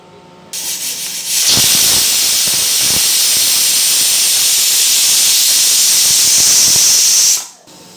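A loud, continuous hiss of steam jets out of a pressure cooker's whistle after a short click, holding steady for several seconds before cutting off abruptly.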